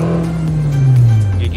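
A 2009 Daihatsu Xenia with Blackcore tuning accelerates and holds a steady engine drone that dips in pitch as it shifts up a gear, heard from inside the cabin with a voice speaking over it.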